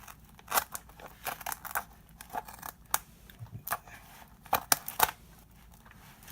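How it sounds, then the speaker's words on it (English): Scissors cut through an adhesive tile-setting mat in a run of crisp, close snips and crunches, irregular and quick, with short pauses between bursts and no talking. "I'm gonna cut down that line and then place it on the wall. So it cut pretty easy."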